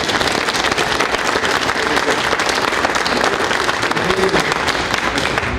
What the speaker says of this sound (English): So please give her an applause.